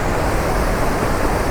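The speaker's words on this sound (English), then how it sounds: "That's a pretty impressive waterfall." Rearguard Falls in British Columbia pours over rocks, a steady, dense roar of rushing water that fills the whole moment without a break, close and loud.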